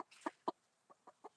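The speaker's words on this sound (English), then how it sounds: "I know it's very weird that the chicken's doing that." A hen clucks in a series of short, separate bursts, close and fairly loud at first, then softer clucks follow at a steady pace.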